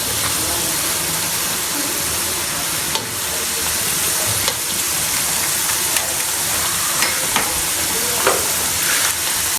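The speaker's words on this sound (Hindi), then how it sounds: "और 2 मिनट के लिए इसको अच्छी तरह से फ्राई कर लेंगे।" Potato tornados fry in hot oil over high heat with a loud, dense, continuous sizzle close by, broken by occasional sharper crackles and pops.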